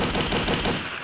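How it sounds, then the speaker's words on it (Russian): Firecracker explosions burst out as a loud, rapid string of sharp cracks, packed densely together with no pause. "Да лови петарду."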